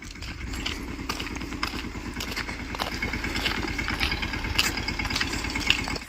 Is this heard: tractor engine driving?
yes